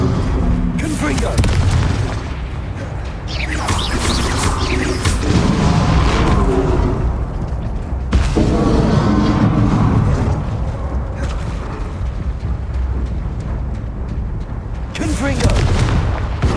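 Video game combat in a wizarding duel, with a string of heavy booming blasting spell explosions layered with rumbling impacts and mechanical clatter, loud and dense throughout, while a player talks over the action.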